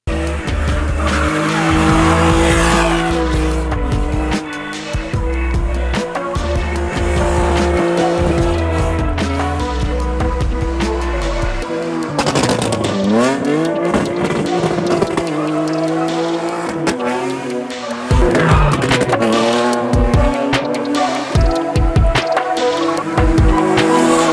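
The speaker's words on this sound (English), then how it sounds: "then it was time for Fiona to do her thing while AJ was driving. Or drifting" A car drifting at a secret drift meet in Abuja, its tires squealing long and loud over a revving, rising and falling engine, the screech sustained close by throughout.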